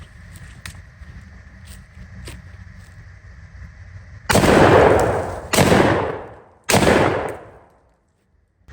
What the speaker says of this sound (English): Let's go ahead and put some rounds through it first.